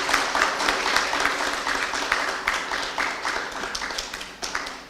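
Crowd at an environmental project symposium applauding the county environment director, a sustained patter of many hands clapping that swells and then thins out into scattered, separate claps toward the end.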